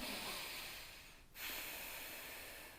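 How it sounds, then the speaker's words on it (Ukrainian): Slow, even breathing through the nose during a relaxing back exercise: a long soft airy inhale, a brief pause, then another steady breath, close and quiet with no talking. "І вдих, і видих носом."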